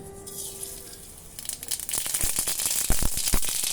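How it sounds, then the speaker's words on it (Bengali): Mustard seeds crackle and sizzle in hot oil during tempering for a fried dish of raw pumpkin seeds and pulp, starting as a soft steady hiss and then breaking into sharp, loud popping spatters. "এবার দিয়ে দিব সরিষা ফোড়ন"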